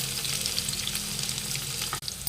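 Cumin seeds and green chillies fry in a couple of spoons of hot oil, a bright continuous sizzle heard close, with one brief dip near the end.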